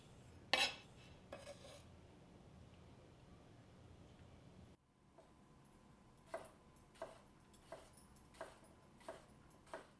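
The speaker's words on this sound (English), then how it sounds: "just to continue to chop it up smaller and smaller" A kitchen knife chops food on a cutting board, with sharp clicking taps spread out irregularly, a loud knock near the start and a brisker run of close knocks later over a quiet room.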